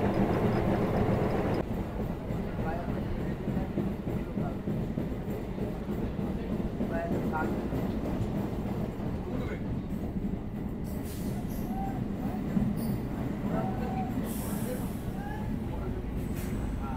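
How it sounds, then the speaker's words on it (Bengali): Howrah to Masagram local train via the chord line running steadily, a continuous low rumble and rattle of the rolling carriage heard from inside, with voices talking faintly over it. "ট্রেন এখন চলে এসেছে মির্জাপুর বাকিপুরে"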